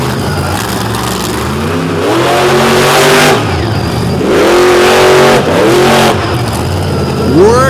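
A monster truck at a Monsters 'N' Megas event in West Lebanon roars as its engine revs hard through a donut, pitch sweeping up and down in repeated surges, loud and close, with brakes smoking.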